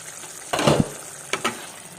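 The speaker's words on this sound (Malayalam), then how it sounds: "ഇപ്പം നന്നായിട്ട് തിളക്കാൻ തുടങ്ങി. നമുക്ക് ഇനി മൂടി മാറ്റാം." Sambar boils in an uncovered pot, with a soft steady bubbling hiss and two brief louder bursts of spluttering or stirring close by.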